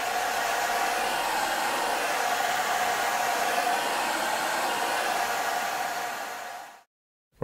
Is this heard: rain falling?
no